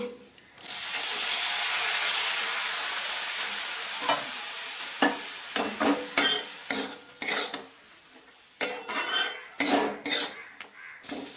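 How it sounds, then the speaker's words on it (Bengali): Semolina upma is stirred in a pan as water is sprinkled over it, starting with a loud sizzling hiss that fades, then a run of sharp, close metal spatula scrapes and clatters against the pan. "এইভাবে জল ছিটাতে হবে আর নাড়া দিতে হবে"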